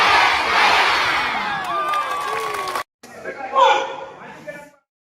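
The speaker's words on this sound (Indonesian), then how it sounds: "Berikan aplaus." Crowd cheering and shouting at a public event in Ambon, loud and lively for a few seconds, cutting off abruptly before a softer murmur of voices and chatter.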